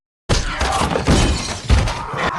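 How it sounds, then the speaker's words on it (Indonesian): Window glass shatters violently in a zombie film, a loud burst of breaking shards that stays dense and crashing for about two seconds, with heavy thuds mixed in. "Ternyata jendelanya hancur."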